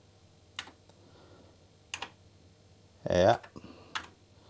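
Keys on a repaired Amiga 600 keyboard are pressed one at a time, giving about four sharp, separate clicks with a louder clattering burst in the middle, while someone murmurs a word.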